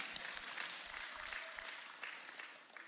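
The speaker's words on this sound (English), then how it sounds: "Round of applause." A church congregation gives a round of applause, a soft, distant patter of clapping that continues evenly.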